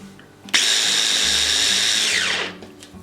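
An electric grinder whirs loudly through a batch of almonds, starting abruptly, holding a steady high-pitched roar for about two seconds, then spinning down as it stops.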